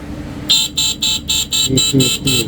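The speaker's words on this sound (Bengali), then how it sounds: "আরেকবার হর্ন দেন" Horn of a 48-volt lithium iron phosphate battery vehicle sounds in loud, rhythmic honks, about eight quick beeps in a row, close by, with faint background noise.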